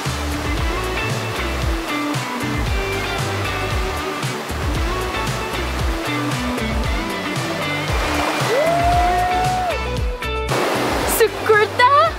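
Sekumpul waterfall in Bali roars as a steady, loud wash of falling water, with people talking over it throughout.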